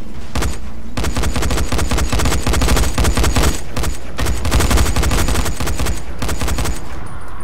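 Loud, sustained automatic gunfire from the zombie survival game Dying Light, dense rapid bursts overlapping almost continuously, with a brief lull near the start and another near the end.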